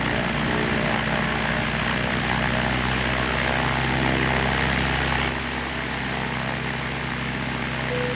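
In Microsoft Flight Simulator, a propeller aircraft engine drones loudly and steadily on takeoff roll, a dense buzzing roar that eases slightly partway through. No one speaks over it.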